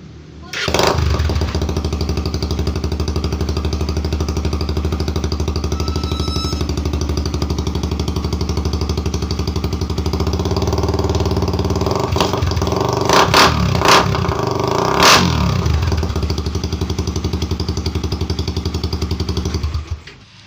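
Rusi Raider 150 motorcycle with a DIY kalkal exhaust pipe idling loudly up close with a rough, crackling, rapid-firing putter, broken by several sharp revs in the middle before settling back, no talking over it.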